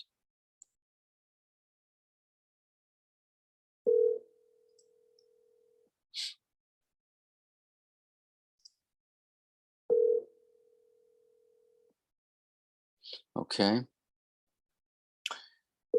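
A telephone line tone plays while someone calls sales leads: two separate steady hums, each lasting about two seconds, spaced by silence, with faint clicks and a brief spoken word near the end.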